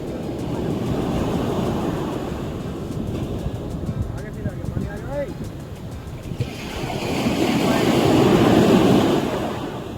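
Steady roar of surf washing onto a beach in Dubai, swelling louder toward the end, with wind noise and faint indistinct sounds in the middle.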